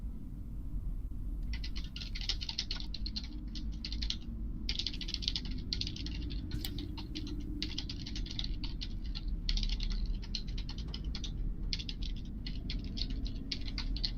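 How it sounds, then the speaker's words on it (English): Someone types on a computer keyboard in quick, close clattering bursts with short pauses between runs, over a soft steady background hum and no speech. "Who's typing?"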